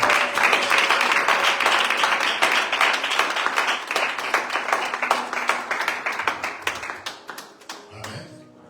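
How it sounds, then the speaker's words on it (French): Congregation clapping together during a church worship service, a dense, steady burst of applause that fills the room, then thins into scattered claps and stops near the end. "On acclame pour encore les gloires."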